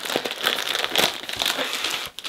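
Scissors slit open a plastic mail package during an unboxing, giving a continuous close crinkling and crackling of plastic for a couple of seconds, with no voices.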